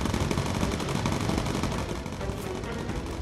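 Bomber gunners firing armour-piercing rounds in the WWII game Bomber Crew: loud, continuous machine-gun fire rattling steadily under a droning engine roar, with no talking.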